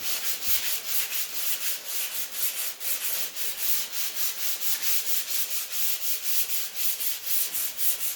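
Continuous hand sanding scrubs a 1978 Ford F100 dashboard in fast, rhythmic back-and-forth strokes, loud and close with a hissy, gritty texture and no voices.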